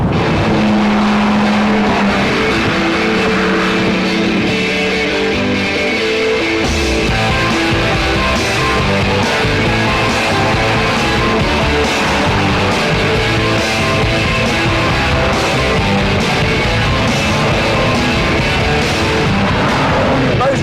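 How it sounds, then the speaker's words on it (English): A 420-horsepower Porsche 911 X2Turbo from 1998 at high speed, its engine a loud, steady, close roar with layered harmonic tones throughout and a brief pitch shift early on, with talk faintly underneath. "It produces 420 horsepower and will propel this 911 to 189 miles an hour"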